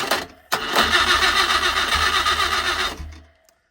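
A homemade offset engine is started by touching a wire to its starter. A brief crank gives way to a loud, close mechanical churning that runs steadily for about two and a half seconds before winding down and stopping.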